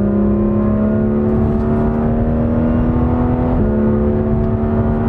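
A Porsche 911 GT3 RS (991) engine holds a high, steady whine around 5000 rpm that shifts pitch once partway through, loud and close, with no voices.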